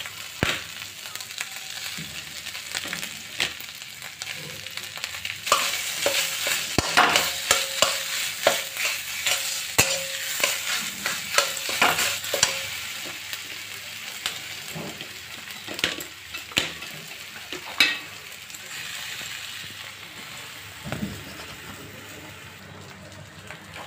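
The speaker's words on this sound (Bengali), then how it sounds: "ভালো করে মিশিয়ে নিয়েছি" Potatoes are stirred into sizzling spiced masala in a pan: a continuous frying hiss that grows louder midway, with frequent spatula clacks and scrapes, then settles back to a softer sizzle, no speech.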